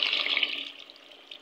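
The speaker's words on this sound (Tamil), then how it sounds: "புளி தண்ணி கொஞ்சம் ஊற்றிக்குவோம்." Tamarind water is poured into a pot of sambar rice (bisibelebath), a short splashy trickle that starts strongest and slowly tapers off, close by and with no talking.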